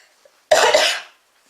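A single short, harsh cough close by, alone in otherwise quiet surroundings.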